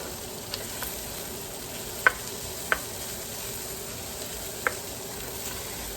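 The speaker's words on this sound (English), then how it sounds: "right now what I'm really doing is cooking that flour" Flour cooking in a pan as the base for a gravy, a steady low sizzle with a few soft clicks of stirring, close and quiet with no talk.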